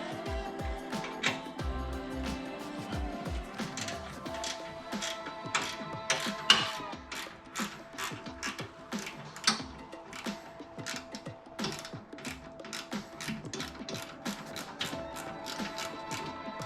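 Metal wrench clicking and ratcheting on an 8mm bolt as a motorcycle antenna is removed, a steady run of close, sharp ticks and small clanks with no talking.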